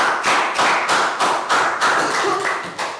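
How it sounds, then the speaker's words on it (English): Hands clap in a steady, even rhythm of about ten sharp claps in three seconds as a class gives a round of applause, close and fairly loud with no voices. "Okay, round of applause."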